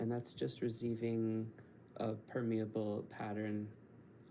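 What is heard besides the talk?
None of the usual background noises is heard.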